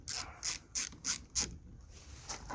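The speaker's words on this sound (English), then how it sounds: "we're using a T30 Torx to undo it" A bolt on a Ford Focus headlight undone with a T30 Torx: five quick rasping ratchet strokes in a steady rhythm, then a pause and a final stroke, close and fairly quiet.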